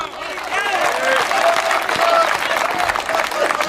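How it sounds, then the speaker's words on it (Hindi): An audience applauds at a Hindi comedy poetry performance, sustained dense clapping with crowd murmurs and a few voices and laughs mixed in, steady and fairly loud. "बहुत अच्छे, तालियां"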